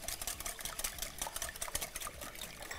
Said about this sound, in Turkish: 4 tane yumurtayı şöyle çırpma teliyle çırpıyorum.